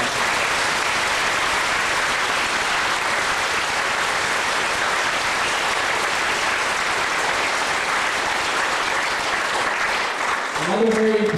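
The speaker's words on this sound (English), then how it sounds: "Can you give him a round of applause?" An audience applauds steadily for a family member at a charity wish event in Cornwall, dense and sustained clapping that fades near the end into a brief voice.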